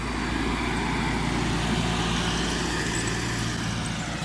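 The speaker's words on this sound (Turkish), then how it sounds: "Tekrardan oraya giriyor traktör." A Landini 5-100H tractor engine working a field while dragging a harrow during chickpea sowing, a steady, continuous low rumble with no voices over it.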